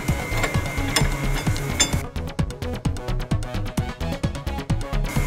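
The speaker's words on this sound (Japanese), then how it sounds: "こちらのボルトを全て取ります。" A ratchet clicks rapidly and rhythmically, close up, as bolts are removed from the upper arm bracket of an RB1 Honda Odyssey fitted with coilovers, following a few earlier metallic knocks, with no talking.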